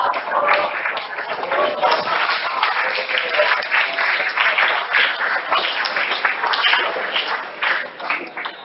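An audience at a lecture on consciousness claps steadily and densely throughout, a continuous roomful of clapping at a sustained, fairly loud level.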